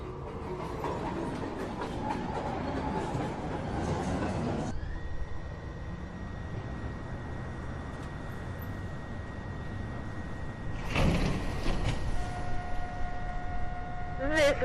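An NYC subway 1 train pulls into a station, a rolling rumble with clattering wheels, followed by a sustained high whine and electronic tones. A recorded announcement plays part of the time.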